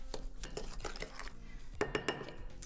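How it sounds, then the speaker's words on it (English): Spoon stirring brown sugar mixture in a bowl, a series of close, quiet scrapes and sharp clinks against the bowl at an uneven rhythm. "I'm going to go ahead and give this a stir."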